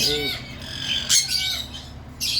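Ringneck parakeets let out several harsh, shrill squawks in short bursts, close by, with quieter chatter between the calls.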